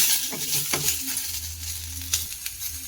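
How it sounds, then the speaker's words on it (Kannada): Black pepper and cumin frying in a hot pan, a soft steady sizzle broken by a few small clinks and stirring taps, close by with no talk. "ಚೆನ್ನಾಗಿ ಫ್ರೈ ಆಗಲಿ"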